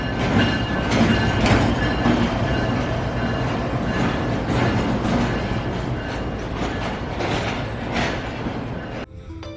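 Jinnah Express passenger train rolling along the rails in Pakistan, with a steady loud rumble and clickety-clack of wheels and faint squeals, the noise continuous throughout and dropping slightly at the very end.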